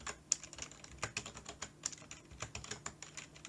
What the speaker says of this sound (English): I'll just type in some numbers, and I'll type in some numbers here,